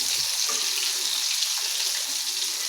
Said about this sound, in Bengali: একদম লাল করে কড়া করে ভাজি করতেছি